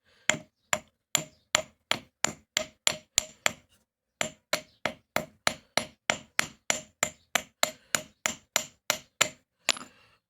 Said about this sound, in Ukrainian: взяв молоток, зараз буду стукати